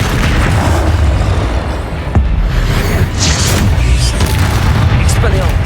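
Spell blasts from the Hogwarts Legacy video game, Incendio and Confringo, crash in repeated heavy booms and impacts over a dense, loud battle din, with a voice talking through the fight.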